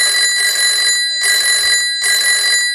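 A mobile phone rings loudly and up close in three evenly spaced electronic bursts, each about three quarters of a second long with brief gaps between, and no other sound around it.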